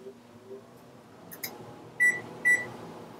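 A microwave oven heating a molten lava cake hums faintly in a quiet kitchen, with a couple of soft clicks followed by two short, clear beeps near the end.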